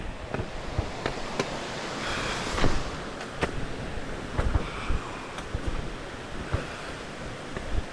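Rushing water from a mountain stream on the trail up Mt. Lafayette roars steadily with broadband wash and wind buffeting the microphone, punctuated by scattered clicks and knocks.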